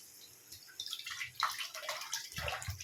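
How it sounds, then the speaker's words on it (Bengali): Water poured into a pan of simmering Bengali fish curry, a splashing, gurgling pour that starts softly and grows steadily louder and close, with no talking. "এবার জল অ্যাড করে দেব।"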